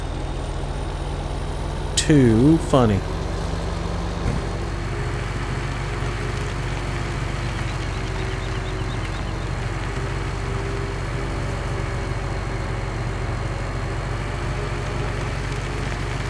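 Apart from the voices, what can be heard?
big tractor engine in the video game Farming Simulator 17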